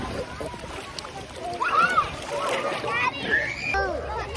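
Children splash about while playing in water, with bursts of close sloshing and spattering under excited kid voices and chatter.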